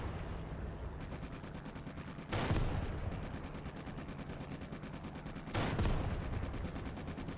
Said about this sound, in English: AI is shooting at something.